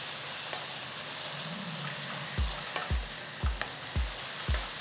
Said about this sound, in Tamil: பொடிசா நறுக்கின 3 வெங்காயம் சேர்த்து அதையும் நல்லா வதக்கிக்கலாம்